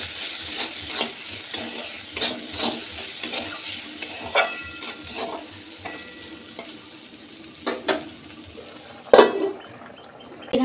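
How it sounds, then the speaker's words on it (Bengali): Potatoes and bitter gourd fry in a wok in a home kitchen, a steady close sizzle broken by repeated scraping stir strokes and a louder clatter near the end, with no talking. "আর এদিকে কড়াই আলু উচ্ছে ভাজাটা চাপিয়েছি"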